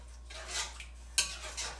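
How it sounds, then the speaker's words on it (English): Basil being stirred into meat gravy in a pot, heard as a few soft, close scrapes and one sharp clink of a utensil against the pot in an otherwise quiet kitchen. "All right, so we stir in the basil."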